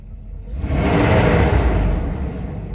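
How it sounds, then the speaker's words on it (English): A Mercedes S500 engine swells into a rev as the gas pedal is tapped, rising from quiet into a loud, sustained rumbling roar, close by with no talking. "Acceleration, give it some tap on the gas."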